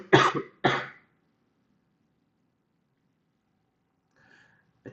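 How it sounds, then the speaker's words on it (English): Two harsh coughs with throat clearing, close and loud, followed by near silence. "I think everything will be fine after this big cough"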